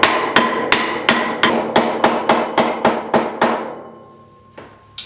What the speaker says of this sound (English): you're gonna wanna tap it with the hammer and a rag